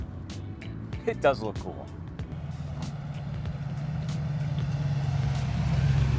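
A 1978 Pontiac Trans Am in blue drives past and turns, its low engine rumble steady and gradually growing louder, with people talking briefly over it near the start.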